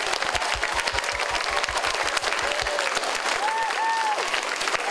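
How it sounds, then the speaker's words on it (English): Applause from an audience at an elementary school 5th and 6th grade music program, a dense, steady clapping that fills the whole stretch at close range, with some rhythmic thumping early on and a few faint whistles near the end. "let's give the 5th and 6th graders one more big clap."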